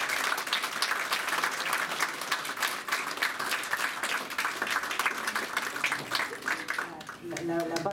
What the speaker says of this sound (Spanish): Un fuerte aplauso para estos chicos